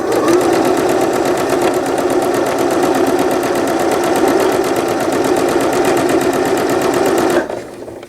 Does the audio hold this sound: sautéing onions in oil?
no